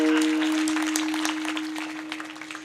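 Audience clapping at a Marathi kirtan, a steady, moderately loud patter of many hands lasting a few seconds over a sustained harmonium-like drone.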